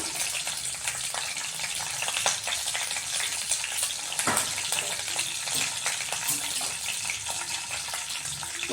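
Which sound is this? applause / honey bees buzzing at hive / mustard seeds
mustard seeds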